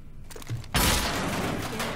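Gunfire in the Rainbow Six Siege shooter, a sudden loud burst of rapid shots erupting after a short quieter lead-in and sustaining as a dense, noisy barrage.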